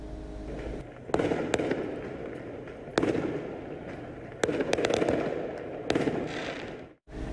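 Fireworks burst in sharp, loud cracks at irregular intervals, about five of them, each echoing over a steady rumbling background.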